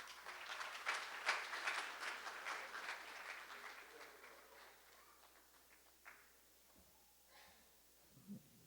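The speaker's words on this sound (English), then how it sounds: "Let's give the young ones a round of applause." Applause at a community talk on unity between man, woman and child, moderately distant and quiet, fading steadily over several seconds into near silence with a few scattered last claps and faint room noise.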